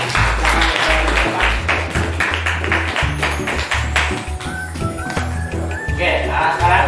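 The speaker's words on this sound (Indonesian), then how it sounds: "Oke, kita beri tepuk tangan dulu." An audience gives a round of applause in a classroom presentation setting, a loud burst of clapping that carries on throughout with some taps and low murmurs.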